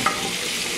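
Garlic and meat frying in a pressure cooker pot make an even, close sizzle, with a single light scrape of stirring at the start.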